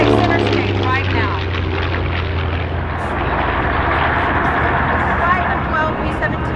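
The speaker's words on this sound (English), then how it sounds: "P-40 right center stage right now." A P-40 warplane passes at an air show, its propeller engine droning loudly and steadily through the open air while an announcer talks over a public address.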